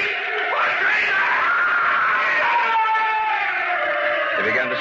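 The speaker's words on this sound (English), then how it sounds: "He began to scream." A man screams in anguish, one long sustained wailing cry that stays loud and strained throughout, with no other sound around it.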